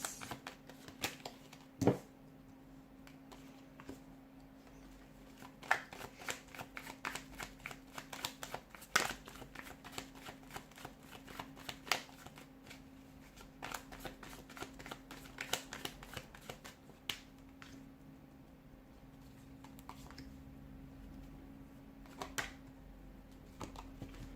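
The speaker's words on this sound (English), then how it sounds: "give the cards a shuffle, and let's see what the cards are predicting" Quiet, crisp clicks and riffling taps of cards being shuffled, in irregular bursts over a faint steady hum, close to the microphone.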